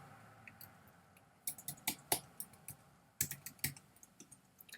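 Quiet room, then two short bursts of crisp keyboard keystrokes, several distinct clicks each, close to the microphone and without talk.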